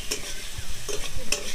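Onion and pointed gourd paste fried in a pan, stirred with a spatula: several scraping strokes over a steady close sizzle, with no talk.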